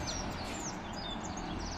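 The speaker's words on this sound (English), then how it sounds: "So many birds here, plenty of birds." Wild birds chirp and call in a leafy, wealthy Nairobi neighbourhood, with weavers and tinkerbirds nearby: several overlapping chirps over a dense, steady outdoor background.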